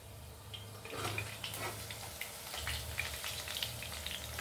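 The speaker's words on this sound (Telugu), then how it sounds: "ఇంకా కొంచెం వేగాలండి" Bitter gourd slices frying in a pan with cumin chilli powder make a low, even sizzle with faint crackles and occasional soft stirring sounds, fairly quiet throughout.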